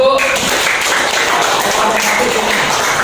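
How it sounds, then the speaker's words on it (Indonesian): A classroom claps for group 1 before their experiment, giving a brief, dense burst of applause that fills the room at close range, with chatter mixed in. "tepuk tangan untuk kelompok 1"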